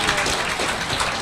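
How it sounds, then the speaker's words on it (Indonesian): Steady crowd applause for the Diamond Director Kim Hui at a Jeunesse Global marketing plan training event, a brief dense patter of many hands clapping at moderate volume. "Mari kita beri tepuk tangan untuk Diamond Director kita"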